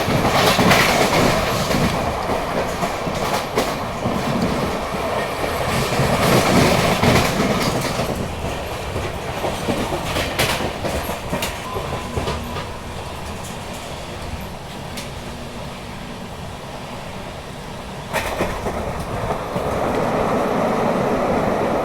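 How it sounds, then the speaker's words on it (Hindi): The Nagpur–Mumbai Duronto Express runs at speed, a steady loud rumble of wheels with rhythmic clickety-clack over rail joints and brief bursts of rushing noise, continuous throughout with no talk. "अब ऐसी स्पीड में स्टेशन स्किप होता है तो फिर दादर में तो ये ट्रेन नहीं रुकने वाली।"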